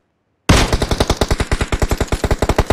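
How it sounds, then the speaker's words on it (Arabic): Automatic gunfire in the video game PUBG Mobile bursts in after a short silence, a loud, close, fast run of evenly spaced shots continuing steadily to the end with no talking. "اضرب طلقة"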